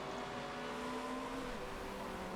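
Race car engines from the game Motorsport Manager during an endurance series race drone steadily throughout, a continuous mid-loud hum with sustained tonal lines and no speech over it.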